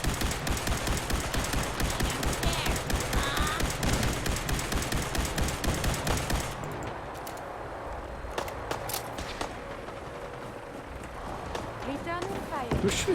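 Laser gunfire in Fallout 4, a dense run of rapid shots for about six seconds, then sparser scattered zaps and bursts in the background with game ambience.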